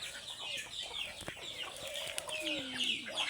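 Domestic ducks on a Philippine countryside farm, a flock calling with repeated quacks and clucking calls close by, busy overlapping voices over outdoor ambience.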